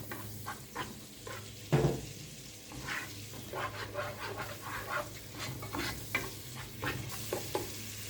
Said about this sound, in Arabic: هشوحهم مع بعض لحد ما ريحه الثوم تطلع عليا من غير ما الثوم ياخد لون